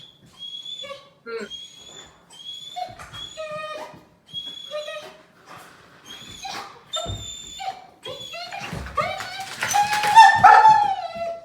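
A dog whimpers and yips in high, whiny cries, repeated in short bursts, growing more frantic and louder toward the end, with scrabbling noises.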